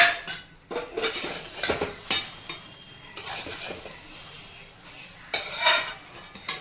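Semolina upma with vegetables and sugar being stirred in a pan, a spoon scraping and clinking against the metal in repeated close strokes over a faint sizzle.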